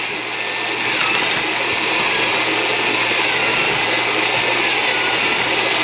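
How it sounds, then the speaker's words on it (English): A cordless drill runs continuously at high speed, a loud whirring drone as it bores holes into a plastic filter box for the water intake. "We're going to want to drill the holes for the water intake."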